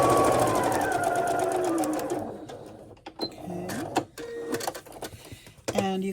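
A sewing machine joins quilt pieces, with dense mechanical whirring at the start that fades after about two seconds into intermittent short stitching bursts, broken by tonal machine notes and some brief voice-like sounds.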